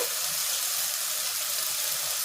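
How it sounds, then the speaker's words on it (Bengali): Green jackfruit and potato frying in a spice paste in a pan, a steady soft sizzle with faint stirring, continuous and close, with no talking. "এরপর আমি এঁচোড়টা আর আলুটা দিয়ে এই মশলাটা দিয়ে কষাবো"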